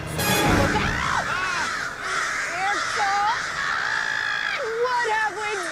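A flock of cartoon birds caws and screeches in harsh overlapping calls, loud and close throughout, with voices talking over the din.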